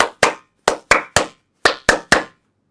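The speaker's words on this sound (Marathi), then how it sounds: "इथे जेव्हा मी टाळी वाजवतो ना" A teacher claps hands in a classroom physics demonstration on oscillation, eight sharp, close claps in an uneven rhythm with brief silences between, no talk.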